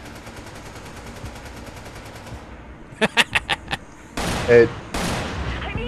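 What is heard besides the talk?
gunshots from the video game Resident Evil 5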